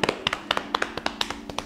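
Hands patting rapidly on the legs during a yin and yang yoga session, a quick, even series of soft slapping taps close by, about a dozen in under two seconds.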